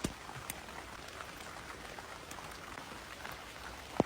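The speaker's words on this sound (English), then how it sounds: "It's raining, it's horrible, there's a storm" Steady rain pattering on a surface in a garden during a storm, a constant wash of drops with a few sharper taps, no voices.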